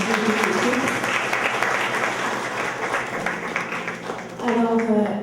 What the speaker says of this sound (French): Une belle main d'applaudissement pour l'équipe.